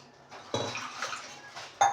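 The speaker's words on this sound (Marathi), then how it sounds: "ते वाटण वाटलेलं पाणी होतं ते टाकून घेतलं मी आता." Water from grinding spice paste poured into a kitchen pan, heard as a short, fairly quiet splash and slosh with pot and utensil clatter, ending in a sharp metallic clink.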